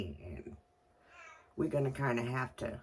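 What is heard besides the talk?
cat crying for breakfast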